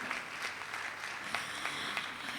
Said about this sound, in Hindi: सबसे पहले तो प्रीथा मजुमदार के लिए तालियां